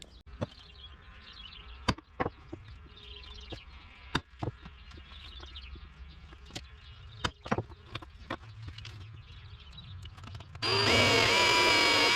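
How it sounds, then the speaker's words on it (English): A power drill bores holes to secure a Dream Mat in a Gold Cube sluice. Scattered taps and clicks lead into a loud, sustained drill whir in the final second or two. "So let's go ahead and get those holes drilled and get that first mat secured."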